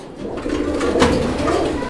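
Lahori pigeons coo in a loud, continuous throaty burble lasting a couple of seconds, close by and alone.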